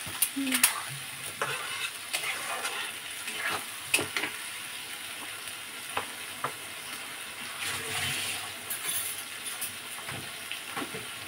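Spices fry in hot oil, sizzling steadily while being stirred with a utensil, with clinks and scrapes against the pan and water-like hissing surges, close and moderately loud.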